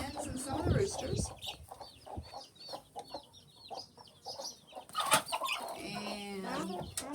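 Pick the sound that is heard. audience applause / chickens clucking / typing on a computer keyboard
chickens clucking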